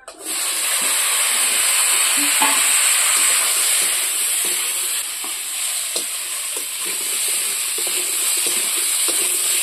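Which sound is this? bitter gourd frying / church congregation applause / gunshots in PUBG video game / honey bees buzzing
bitter gourd frying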